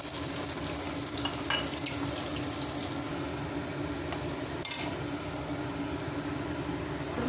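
Onions and green chilies fry in oil for a ridge gourd and potato curry, a continuous close crackling sizzle that softens partway through, with a brief clatter near the end and no talk.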